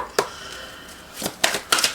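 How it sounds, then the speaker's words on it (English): A deck of tarot cards is given a quick shuffle up close, with several sharp riffling bursts separated by short pauses. "I'm just going to give them a quick shuffle"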